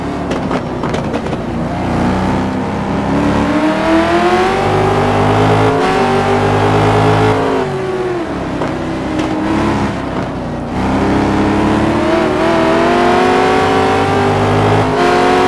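Racing cars in a GT1 qualifying session at the Nurburgring in a video game, engines loud and close with continuous revving that rises and falls through gear shifts, one car's whine dominating without pause.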